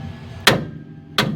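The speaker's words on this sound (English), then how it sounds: "tap it like that with a hammer, it'll pop right loose" Hammer tapping on a stuck, taper-fit ball joint while removing a spindle from a 1969 El Camino; two sharp, loud metallic taps about 0.7 seconds apart, close up.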